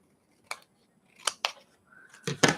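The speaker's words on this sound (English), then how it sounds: "And then I'm going to trim this closer." Scissors trimming the edge of a paper postcard, a handful of crisp, close snips in quick succession with short pauses, ending in a louder double cut.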